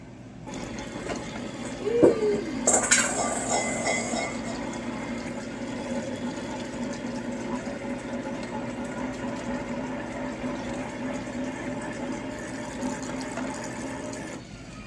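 Water pours steadily into a container with a sustained, gurgling rush, preceded by a brief clatter near the start.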